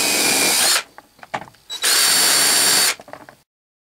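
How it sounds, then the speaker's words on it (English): A power drill boring holes into a gasometer model whines loudly in two long bursts, separated by brief clicks and pauses, close up with no talking. "I had forgotten to drill these two holes in there."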